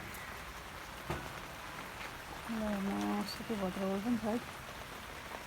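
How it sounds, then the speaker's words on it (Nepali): Steady rain falls on potted plants and cactus outdoors, a faint continuous patter beneath a voice speaking up close. "भन्नुहोस् है यस्तो पानी पर्दैछ कि"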